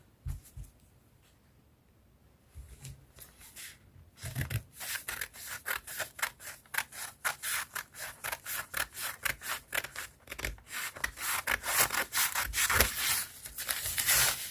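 Scissors cutting out a paper sleeve pattern, a rapid run of crisp snipping and rustling paper strokes close by, starting after a quiet opening and continuing steadily to the end, with no talking.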